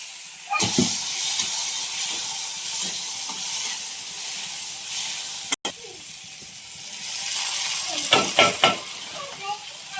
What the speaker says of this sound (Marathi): तर चांगलं लसूण ना भाजून घ्यायचंय आणि टोमॅटो थोडा टाकणार आहे.